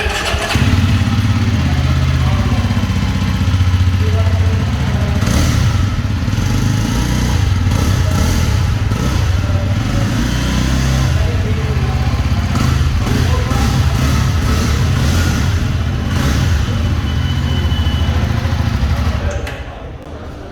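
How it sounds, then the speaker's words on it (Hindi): Jawa 42 motorcycle engine idling, its exhaust note a steady low thrum throughout, loud and close, with a voice speaking over parts of it; the sound drops off at the end. "सो चलिए अब सुनते हैं जावा 42 का एग्जॉस्ट नोट।"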